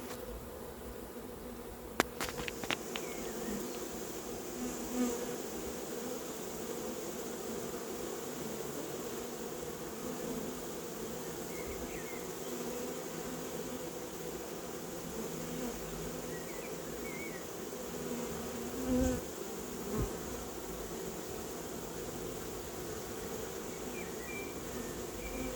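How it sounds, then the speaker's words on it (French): A honey bee swarm clustered on the ground in grass hums steadily and softly, a dense continuous buzz with a few faint knocks and rustles, no voices. "du paquet d'abeilles au sol."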